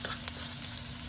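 Onion sautéing in a hot pan for adobong pusit, a steady close sizzle with a few brighter crackles over a constant frying hiss, no talking.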